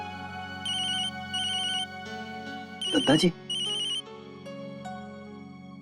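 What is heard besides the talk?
telephone ringtone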